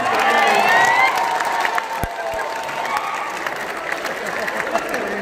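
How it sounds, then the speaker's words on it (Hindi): Audience applause and cheering swell loudly at a Hindi poetry gathering, then settle into steady clapping mixed with crowd noise and voices. "जोर से बजाइए ताली"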